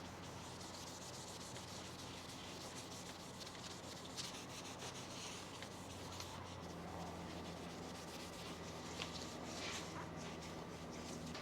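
A maroon abrasive pad of roughly 400 grit scuffs the painted surface of a car wheel in a home garage, producing a faint, continuous scratchy rubbing that stays even throughout without pauses.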